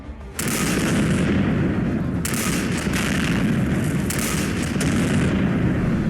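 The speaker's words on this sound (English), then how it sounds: "Yes, it actually shoots flares. Evil exploding flares though." Red Flare weapon mod in Fallout 4 firing exploding flares: a continuous loud barrage of booming blasts and crackling bursts starting abruptly and sustained to the end, with no talk.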